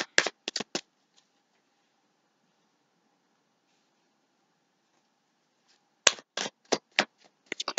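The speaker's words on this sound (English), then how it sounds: "And I'm going to shuffle." A deck of tarot cards is shuffled at close range in crisp, quick bursts of riffling, with a quiet pause in between.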